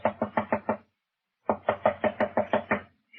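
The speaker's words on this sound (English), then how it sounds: "Knock again, if you don't mind." Knuckles rap on a door in a Sherlock Holmes drama, five quick evenly spaced knocks, a pause of about half a second, then a longer run of eight more, clear and close with nothing else heard.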